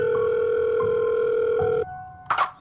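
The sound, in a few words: telephone call ringing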